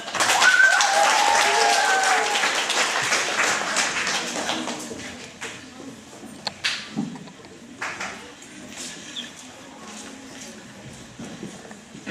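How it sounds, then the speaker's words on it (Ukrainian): An audience applauds at a Ukrainian concert by father and son singers, a dense clapping wash that is loud at first and then thins into scattered claps, with some voices mixed in. "Ваш аплодисмент?"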